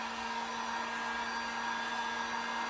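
A heat gun blows continuously, drying stenciled paint on a greeting card, with a steady, even whoosh and a constant tone and no pauses.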